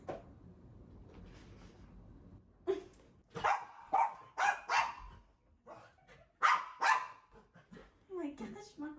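A dog barks in a home, several sharp barks in quick bursts after a few quiet seconds, fairly close, with some rustling and soft household sounds around them.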